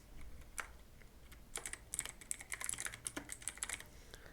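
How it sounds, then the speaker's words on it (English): Quick bursts of keystrokes on a computer keyboard, close and fairly quiet, with irregular clusters of clicks and brief pauses between them. "now type here background apps"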